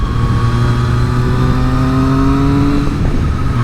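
A motorcycle fitted with an Akrapovic exhaust revs steadily and loudly up close, its engine tone climbing slightly before settling, with no talking.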